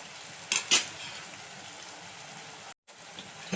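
Chili paste cooking in a pan: a soft, steady sizzle of frying, with two sharp clinks of a spoon against the pan early on and a brief silent gap.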